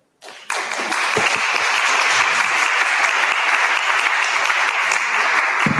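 Audience applause after a talk at a French event on urban farmers and vertical farming: a loud, sustained burst of many hands clapping that starts abruptly and holds at an even level throughout.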